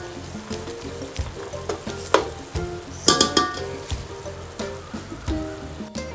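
Boiled eggs get stirred with mixed masala in a hot pan for egg biryani, a sizzling bed broken by repeated spatula scrapes and clinks in an uneven rhythm, close up and without talk.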